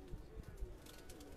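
Faint, soft cooing of pigeons on a rooftop in Karachi, a few low murmuring coos over a quiet background.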